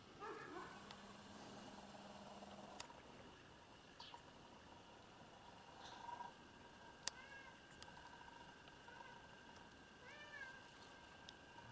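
A grey cat outside a church in a village meows softly now and then over faint outdoor background noise, the calls brief and fairly distant.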